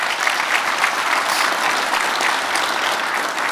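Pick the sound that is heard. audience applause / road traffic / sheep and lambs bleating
audience applause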